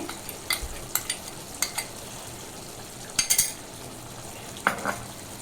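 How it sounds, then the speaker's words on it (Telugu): Raw tamarind chutney fried in oil without water and stirred in a pan, giving scattered scraping clinks and light utensil taps over a soft, steady background sizzle. "నేను నీళ్ళు వేయకుండానే వేపుతున్నాను నూనెలోనే"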